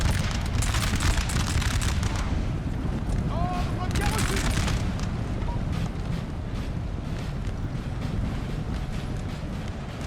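Musket volleys ring out across a Napoleon Total War battlefield, a continuous dense crackle of massed gunfire with rolling bursts under a steady wind-like roar, loud and sustained throughout.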